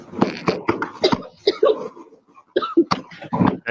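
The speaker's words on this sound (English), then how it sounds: "Now you hear her coughing." A woman coughs repeatedly in short, uneven bursts, close and fairly loud, with brief gasping breaths between fits.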